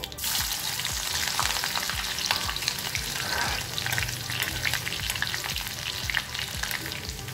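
Steady, loud sizzling of chopped green chilies frying in hot oil for mango pickle, with crackling pops and a rhythmic low scraping throughout; no voices.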